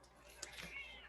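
A pet cat lets out a single faint, drawn-out meow indoors, soft and somewhat distant against a quiet room hum, heard alone without talk.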